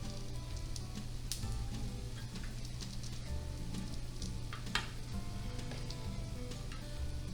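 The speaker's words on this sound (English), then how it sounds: "Okay, so our fryer is finished. We're going to take out our wings." Chicken wings for a garlic parmesan recipe crackle with a steady, close sizzle just after coming out of an air fryer, with faint clinks and scrapes over the hiss and no talking.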